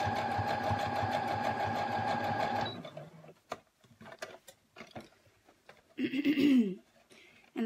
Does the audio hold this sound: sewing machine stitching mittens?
yes